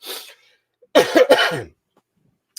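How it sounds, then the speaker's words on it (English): A short cough, then a louder cluster of two or three harsh coughs close to the listener, with silence before and after. "here I just coughed like 3 times in the last few seconds"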